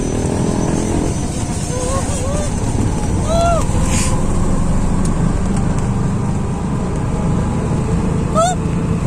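A motorized bao-bao tricycle ride, with a steady engine drone and road rumble continuing throughout and a few chirping sounds near the vehicle.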